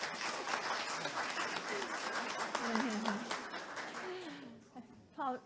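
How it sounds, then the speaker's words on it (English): Applause at a congregational church meeting, a dense patter of clapping with voices mixed in, fading out toward the end with a few last claps. "Paul, you're the only one that got applause."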